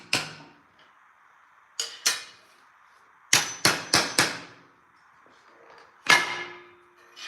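A hammer taps a bolt down on a shop-made blade guard for an old Craftsman jointer, with single sharp metallic clangs, then a quick cluster of four, then one more, each ringing briefly, close and alone.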